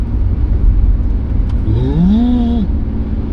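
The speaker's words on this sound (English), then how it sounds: "Now do you hear the engine has to work" A 2000 BMW 728i engine with automatic gearbox drones steadily, then its note climbs and strains as the car accelerates hard, heard from inside the cabin.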